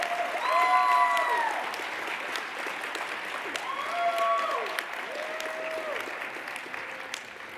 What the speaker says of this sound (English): Let's give Jorge a warm round of applause.